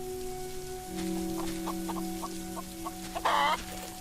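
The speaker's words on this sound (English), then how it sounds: "these chickens are a little bit glitched out" Chickens in the farming video game Solarpunk make a quick run of short, regular clucks over a steady hum of game ambience, ending in a brighter burst of sound.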